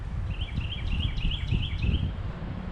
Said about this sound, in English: All around me, I can hear cardinals, I can hear bluebirds, robins.